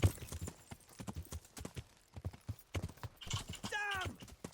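Horse hooves clip-clopping at a gallop in the medieval game Kingdom Come Deliverance, a rapid uneven thudding rhythm that ends in a clear neigh near the close, with faint voices underneath.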